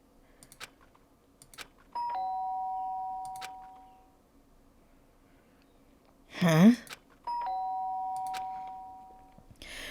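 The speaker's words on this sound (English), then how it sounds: "The sharp sound of the doorbell pierced my sleepy haze and pulled me back to the real world." A Danganronpa video game doorbell rings twice, each a sustained two-tone chime lasting a couple of seconds and fading out, with a brief spoken exclamation between the rings.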